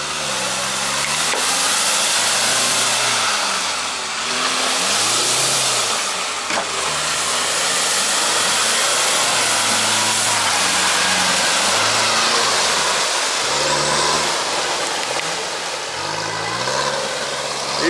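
Diesel UAZ Patriot with an Aveko engine and full locking differentials straining off-road through deep water, its engine droning steadily loud with repeated rising revs and labored surges, close and continuous.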